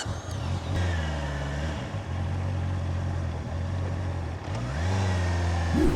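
A new four-cylinder motorcycle's engine runs steadily nearby with a smooth, continuous hum, dips briefly, then rises again with a slight rev toward the end; no one talks.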